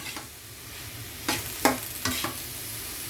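Special noodles with snow peas being stir-fried in a pan: a soft, continuous sizzle broken by three or four scraping tosses of the spatula, close and clear, with no talking.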